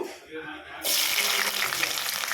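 Chopped onions dropped into a small amount of heated oil, bursting into a loud, steady frying sizzle that begins abruptly after a quiet moment and continues without a break.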